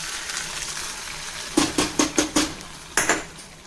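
Curry leaves dropped into a hot mustard and crushed garlic tempering for a white pumpkin masiyal, with a low frying hiss under a run of sharp metallic clinks and taps from a utensil against the pan, spaced irregularly.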